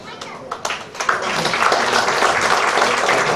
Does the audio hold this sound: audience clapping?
yes